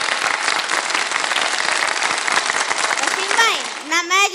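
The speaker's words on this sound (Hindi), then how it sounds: "तीनों के लिए तालियां हो जाए भाई।" Studio audience applauding quiz contestants on a Ramadan game show, a dense steady wash of clapping throughout, with a voice and a tonal flourish breaking in near the end.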